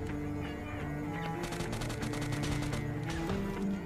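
Rapid bursts of gunfire in the mobile battle royale game PUBG Mobile Lite, a steady crackling string of shots layered over busy game audio, moderately loud with no talk.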